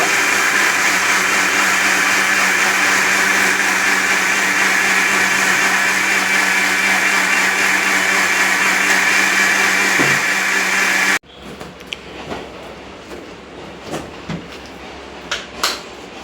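An electric mixer whirs loudly and steadily while beating plum cake batter, then cuts off abruptly, leaving quiet kitchen clinks and light tapping of utensils.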